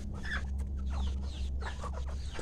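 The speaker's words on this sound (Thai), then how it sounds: "ฝูงไก่ครับผม มีทั้งไก่บ้านครับ ผมไก่แจ้แล้วก็ไก่ป่า" Mixed flock of domestic chickens, bantams and jungle fowl clucking continuously at close range, with overlapping calls over a low steady hum and no speech.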